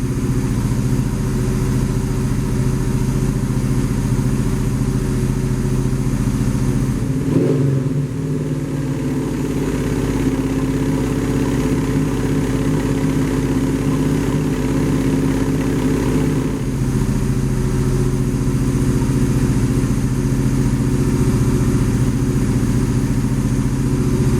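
Gen 3 Hemi swapped engine running just after its first startup, a loud steady rumble that dips briefly and returns to an even idle throughout, with no talking.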